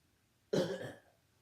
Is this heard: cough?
yes